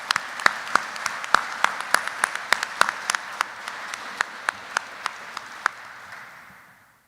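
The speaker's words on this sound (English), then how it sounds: "Let's give our families a round of applause." Scattered, sharp hand claps from a small audience at a military retirement ceremony ring out in a loose rhythm, then thin out and fade to quiet.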